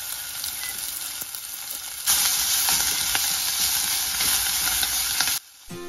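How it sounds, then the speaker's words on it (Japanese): Pork belly fries in a tablespoon of hot oil in a pot, giving a close, steady sizzle that swells louder partway through as the meat is stirred, then cuts off abruptly near the end. "鍋に大さじ1の油を熱して豚肉を炒めます。"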